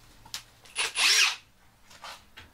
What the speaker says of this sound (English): now you're just gonna go ahead and put your deck screws back in